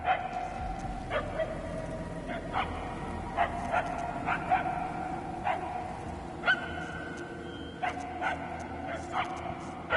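A dog barks repeatedly in the distance in the Guardians of the Galaxy video game, with irregular yips and barks spaced a second or so apart over a steady ambient bed, fairly faint and far off.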